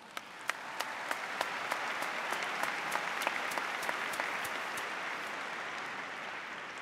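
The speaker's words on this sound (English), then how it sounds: "Let's give them a round of applause." Audience at a Wichita State University fall commencement bursts into sustained applause, a dense wash of clapping with sharp individual claps standing out, steady and fairly distant throughout.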